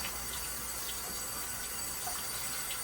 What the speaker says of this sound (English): You use warm water, not hot, and you rinse this out really, really well.